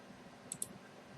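Two quick, crisp computer mouse clicks close together at a desk, set against a faint steady room hum with no talking.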